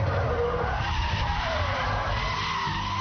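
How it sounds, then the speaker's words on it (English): Tires of a BMW Z3 M Roadster skid and squeal loudly as it slides in a handbrake drift, with engine rumble underneath throughout the short burst. "Use the Scandinavian flick to upset the car. Grab the handbrake."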